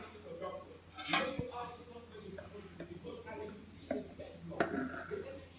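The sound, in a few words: spoon clinking in jar while scooping honey and turmeric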